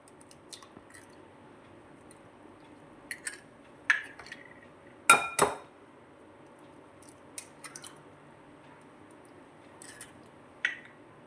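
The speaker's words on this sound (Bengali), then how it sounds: "এর মধ্যে আমি ডিম দুটো ভেঙে দিয়ে দেব।" Two eggs cracked into a bowl for a mango pudding, a few sharp close taps and cracks with wet squishy drips in between, sparse and quiet against a near-silent kitchen with no talking.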